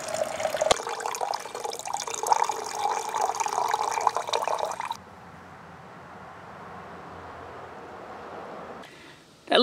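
Freshly ground coffee pours into cups as a close, bright liquid splash for about five seconds, then quieter trickling and a brief clunk at the end.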